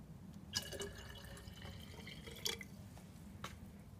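Kerosene poured into a jar that already holds automatic transmission fluid, a low steady liquid pour with a few brief drip-like splashes, close and fairly quiet.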